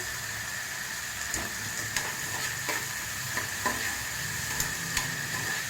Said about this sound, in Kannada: ಟೊಮೆಟೊ ಸ್ವಲ್ಪ ಫ್ರೈ ಆಗಲಿದೆ ಈಗ